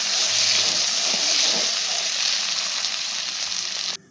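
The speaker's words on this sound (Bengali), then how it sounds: "তারপর কিন্তু কেটে রাখা আলুটা প্রথমে দিয়ে দিলাম। আলুটা দিয়ে ভালো করে নাড়াচাড়া করে নেব।" Cut potatoes frying in mustard oil with bay leaf and cumin, a loud, close, steady sizzle and hiss with light stirring underneath, cutting off abruptly at the end.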